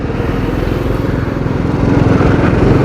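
A Honda Super Cub C70 motorcycle engine runs close by, a steady low throbbing putter that swells slightly louder toward the end, with no talking.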